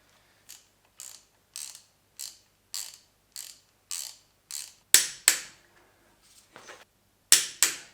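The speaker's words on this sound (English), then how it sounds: "torque the bolts to 70 foot-pounds of torque" Ratchet wrench clicking in short repeated bursts as bolts are tightened on a high-compression BMW S54 engine rebuild, about a dozen crisp close ratcheting strokes, the last few louder and sharper, with no talking.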